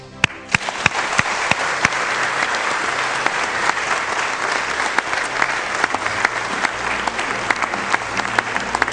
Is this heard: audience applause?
yes